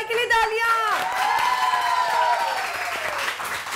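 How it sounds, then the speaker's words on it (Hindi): A studio audience on a television morning show applauds in a broad, steady wash while sweeping musical tones ring over it. "इब्राहिम भाई के लिए तालियां"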